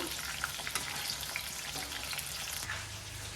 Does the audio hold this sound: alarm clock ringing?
no